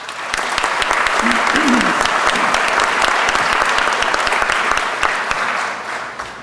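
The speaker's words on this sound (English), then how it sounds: "How about a round of applause for our instructors?" Audience at a police academy graduation ceremony applauding the instructors, a loud, dense, sustained round of clapping with crisp individual claps and a brief whoop or voice rising early on.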